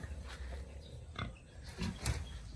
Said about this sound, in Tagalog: Ito yung biik na natira.